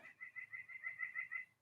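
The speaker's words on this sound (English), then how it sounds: "Oh, I hear a bird chirping." A small bird chirps in a quick, rhythmic series of faint, high notes lasting under two seconds.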